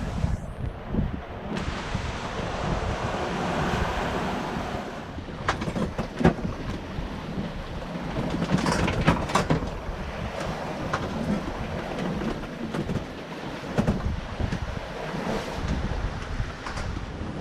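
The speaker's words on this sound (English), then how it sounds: "They're not too gnarly, just a bit wet. A little bit more wind." Ocean waves rush and wash against a sailboat on a Pacific crossing from Mexico to French Polynesia, with steady wind roaring across the hull in a continuous loud wash and occasional bursts of spray and knocking.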